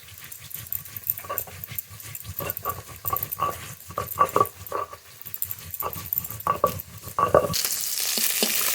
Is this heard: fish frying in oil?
yes